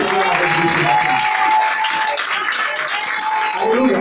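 A church congregation applauds and acclaims God in a loud, steady wash of clapping mixed with voices, sustained throughout without a break.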